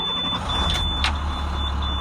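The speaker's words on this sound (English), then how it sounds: "So we're gonna turn on the bus." A bus engine starting up and running, with a steady low rumble and broadband engine noise that stays close and loud for two seconds, plus a brief higher whine partway through; no talking.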